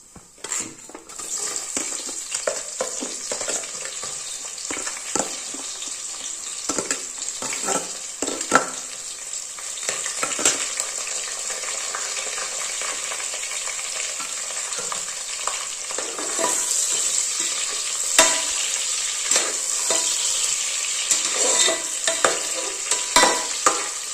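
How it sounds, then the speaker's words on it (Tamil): Sliced onions fry in an oiled pan for mushroom biryani, a steady sizzle broken by repeated scrapes and clinks of a spoon stirring them, with no voices. "வெங்காயம் வதங்கட்டும், அதுக்கப்புறம் பார்க்கலாம்."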